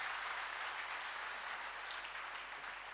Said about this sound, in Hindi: तालियां जोरदार पीछे तक आनंद के साथ बजाइए